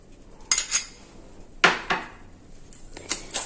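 A spoon mixing powdered sugar and melted butter in a bowl, heard as a few sharp clinks and scrapes of metal against the dish in separate bursts, close and clear with no talking.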